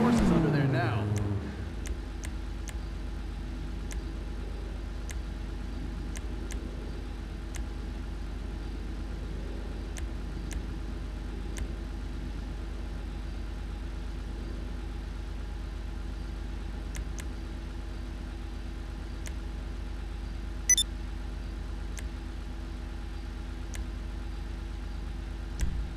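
Car engine idling in the video game Grand Theft Auto V, a steady low rumble holding level throughout with faint ticks and a brief higher burst near the end.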